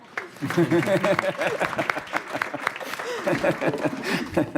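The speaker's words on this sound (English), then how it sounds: "we should give them a round of applause" A conference audience at a European territorial-planning event gives a round of applause, fairly quiet and spread out, with many voices chattering and chuckling over the clapping.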